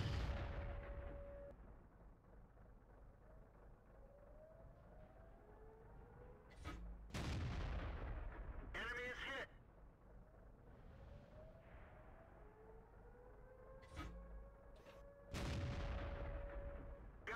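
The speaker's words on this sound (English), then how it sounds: "Priest is firing at us all the time" Booming shots from a Priest self-propelled artillery gun in World of Tanks, with several loud, abrupt bursts standing out over a steady low rumble of engine and battlefield noise, some of them seemingly nearby.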